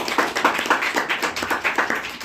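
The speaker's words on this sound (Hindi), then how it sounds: "जोरदार तालियां विमल के लिए।" An audience claps for a contestant at a Constitution Day quiz event, a steady, fairly loud burst of rhythmic clapping heard on its own.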